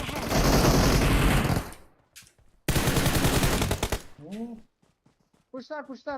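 Two long bursts of rapid automatic gunfire rattle close and loud in PUBG Mobile, separated by a short gap. Voices then talk over quieter stretches afterward.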